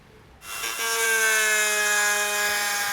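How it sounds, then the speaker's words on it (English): A drill bores into a tortoise shell, starting abruptly after a brief quiet moment and then holding a steady, high whine with a slight drop in pitch, close and loud, with no talking. "It's a drill."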